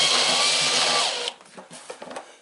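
A power drill runs steadily at high speed while driving screws into a Wildgame Innovations game feeder, then stops abruptly, followed by short clicks and handling noises.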